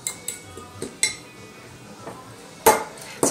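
Spoon or utensil clinks and scrapes against a bowl while gluten-free vegan Irish potato pie ingredients are mixed, scattered sharp knocks with quieter stirring between, close and without speech.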